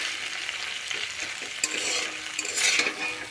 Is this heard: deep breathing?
no